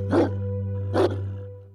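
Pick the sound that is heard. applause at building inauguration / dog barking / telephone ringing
dog barking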